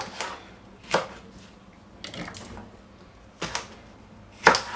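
Peppers being chopped with a knife on a board, four or five separate sharp knocks spaced about a second apart, close and fairly quiet.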